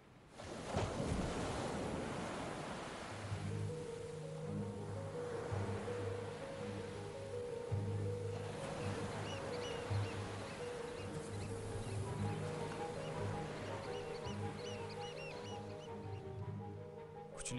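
Ocean waves wash onto a shore as the tide rises, a steady close surf roar with soft breaking swells and a low sustained hum running underneath throughout.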